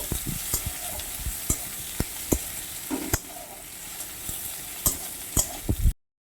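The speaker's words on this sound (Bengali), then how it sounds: "এবার আমি দিয়ে দিচ্ছি পেঁয়াজ পেঁয়াজটাকে একটু নাড়িয়ে চাড়িয়ে কিছুক্ষণ ভেজে নেব" Onions frying in a pan with spices while being stirred, a constant close sizzle broken by sharp scraping strokes of the spoon every second or so, then cutting to silence at the end.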